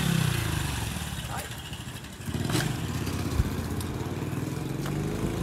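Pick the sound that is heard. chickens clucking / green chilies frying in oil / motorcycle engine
motorcycle engine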